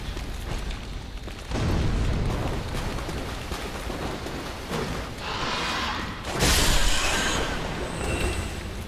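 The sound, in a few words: fire bomb explosions in video game Dark Souls III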